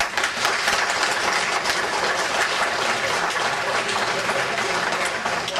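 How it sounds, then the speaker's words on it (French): An audience at a 2020 New Year's greetings evening claps steadily, a dense, even, crackling applause that fills the whole stretch without pauses or voices. "et on peut aussi les applaudir."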